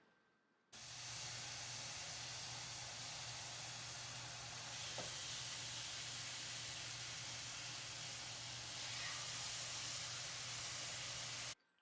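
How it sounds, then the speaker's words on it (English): Steady, close sizzling of chicken frying in a hot pan, a constant crackling hiss that starts abruptly and holds without talk. "if you hear that nice sizzle, you know it's ready"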